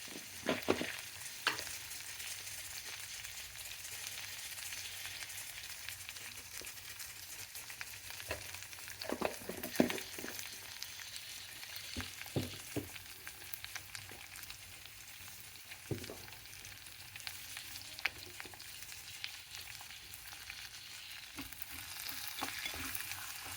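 Oil tempering for upma sizzles steadily in a pan with turmeric added, a continuous frying hiss broken by scattered sharp clicks and scrapes of stirring, with no talk.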